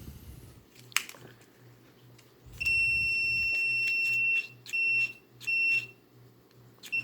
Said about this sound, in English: Red's closed, so it should beep right away.